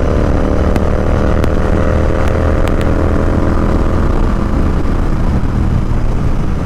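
A Royal Enfield Continental GT650 fitted with a Red Rooster performance exhaust roars at speed on a road, a loud, steady, rumbling engine drone with wind noise and no talk.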